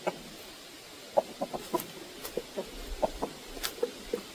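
Free-range chickens cluck in short, scattered bursts, several birds close by and fairly soft, with irregular spacing over quiet outdoor ambience.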